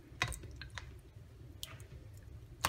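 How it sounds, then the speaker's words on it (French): Fruits are crushed in water to release their juice, giving scattered wet squishes and small clicks close up, faint and irregular with short quiet gaps between them. "je vais quand même les écraser un petit peu pour essayer de libérer un petit peu le jus des fruits plus vite"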